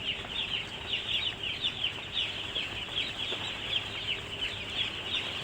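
Chickens and chicks in a farm pen in the Philippines cluck and peep in a steady, busy chatter, with high chirps running throughout at close range.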